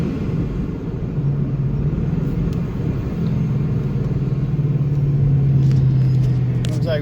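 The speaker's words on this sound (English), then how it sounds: "if you give it gas, when you shift, you'll get a lot of the turbo-esque sounds with that blow-off valve" Supercharged 2011 Ford Mustang GT 5.0 with a blow-off valve, its engine a steady loud rumble with a rising drone that holds while driving, and the note climbing in pitch under load.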